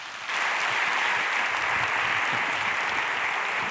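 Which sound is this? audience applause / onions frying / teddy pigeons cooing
audience applause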